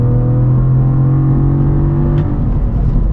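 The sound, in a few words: Cadillac CT4-V Blackwing 3.6 liter V6 engine revving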